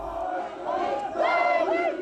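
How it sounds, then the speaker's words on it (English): A crowd gathered at Waitangi to honour Hek Busby swells into collective singing as his knighthood ceremony ends, many voices blending in sustained, rising harmonies at a steady, full level. "The crowd who turned up to honour Hek then swelled in song as the ceremony ended."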